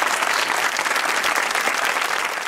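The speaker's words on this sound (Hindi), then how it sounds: "ताली होनी चाहिए कैप्टन अली के लिए।" A studio audience claps for Captain Ali in a thick, unbroken burst of applause that stays loud and even with no talking.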